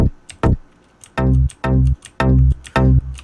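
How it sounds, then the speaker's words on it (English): Short, punchy Melbourne bounce synth bass plucks bounce in a choppy offbeat rhythm, each note starting with a sharp bright click and cutting off quickly. "for the actual like offbeat Melbourne bounce, I guess, style bass line"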